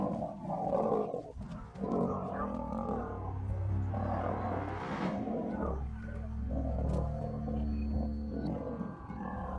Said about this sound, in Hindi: उनके दहाड़ने की आवाजें दिल दहला देने वाली थीं।